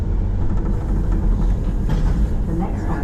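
DLR light rail train running on its rails between Beckton and Canning Town in East London, a steady loud rumble and rattle of the carriage throughout, with some voice-like murmur mixed into the noise.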